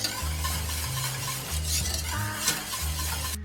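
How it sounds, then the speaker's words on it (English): Thickening polenta being whisked in a pot, a quick run of rhythmic scraping strokes of the whisk against the pot with soft wet stirring noise between them, close and fairly loud. "I'm whisking because I don't want"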